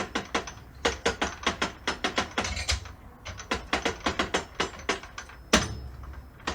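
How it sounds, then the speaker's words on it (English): Close, steady ratchet-like clicking comes in quick bursts with short pauses as a screw is turned to press a bearing into a 1979 Saab 96 V4 gearbox. No one talks. "I'm pressing it with a screw from the external side of the gearbox"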